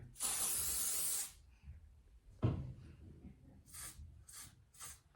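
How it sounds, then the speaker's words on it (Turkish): A spray can lets out one long, loud hiss lasting about a second, then three short, sharper puffs follow after a pause, all close by indoors. "Sık hadi bana. Sık hadi."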